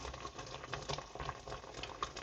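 Boiling water poured from a kettle onto a simmering pork stew with lentils, a steady bubbling, splashing liquid sound in a kitchen, continuous and fairly quiet with no talking.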